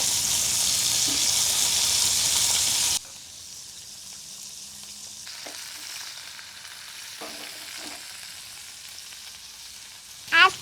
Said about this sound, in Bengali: উনুনে কিন্তু মাছ ভাজা হচ্ছে